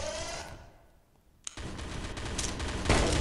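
Rapid gunfire in the video game Pixel Gun 3D, with a burst of shots that fades, a short lull, then a sharp shot and a renewed dense automatic volley to the end, loud and close.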